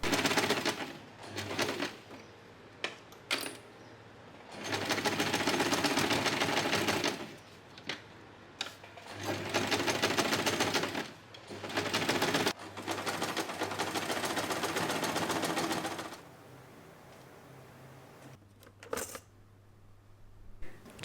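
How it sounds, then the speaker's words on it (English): A sewing machine stitches around a scrap-fabric zipper pouch with lining in several runs of steady, rapid needle chatter, separated by short pauses and small handling clicks, close and clear. "Sew all the way around the pouch, but leave a small gap in the lining so we can turn it out."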